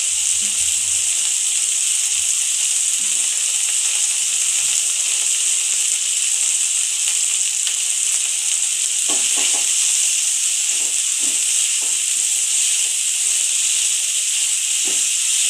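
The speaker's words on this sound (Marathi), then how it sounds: "एक दोन मिनटं परतून घेऊया टोमॅटो मोठं होऊन दे गॅस मिडियम ठेवायची" Chopped tomatoes sauté in hot oil in a pan over medium heat for a hotel-style sambar, giving a steady, even sizzle throughout with a few soft stirring clinks.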